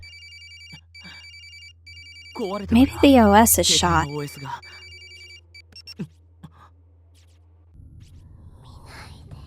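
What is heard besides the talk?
phone ringtone in a video game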